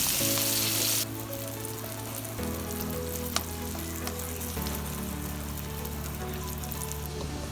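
Breaded chicken skin fries in hot oil with a continuous close crackling sizzle that holds steady, while a low tonal hum runs underneath and shifts pitch a couple of times.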